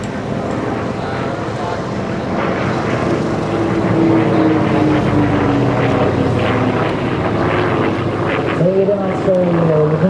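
A Yak-11 piston propeller trainer aircraft flying at an air show, a steady loud engine drone with a rising and falling pitch, heard under a commentator speaking over the PA.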